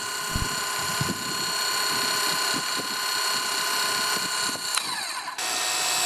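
A Cecotec Hydroboost 20V cordless pressure washer runs in economy mode on a terrace, giving a steady close motor whine with spraying hiss that cuts off briefly near the end before resuming.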